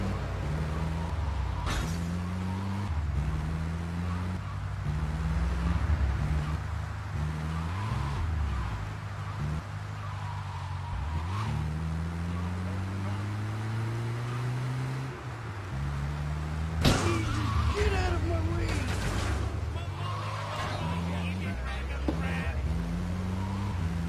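A van drives in the video game Grand Theft Auto 3, its engine humming and rising and falling in pitch as it speeds up and shifts, with a brief crash partway through and a voice talking now and then.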